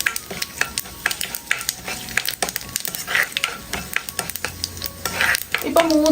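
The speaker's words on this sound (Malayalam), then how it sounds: "എണ്ണ ഒന്ന് ചൂടായതിന് ശേഷം ഇതിലേക്ക് 2 കഷ്ണം പട്ട, 2 ഗ്രാമ്പു, 3 ഏലക്ക ഇട്ട് കൊടുക്കാം." Whole cinnamon pieces, cloves, cardamom pods and fennel seeds fry in hot oil, a close, steady sizzle broken by repeated scrapes and taps of a stirring spoon against the pan.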